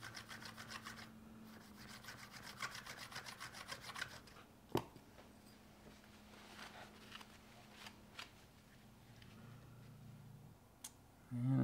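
Lie-Nielsen low angle jack plane iron rubbed back and forth on a sharpening stone, a steady close rasping scrape in repeated strokes with a low hum beneath and a sharp tick partway through.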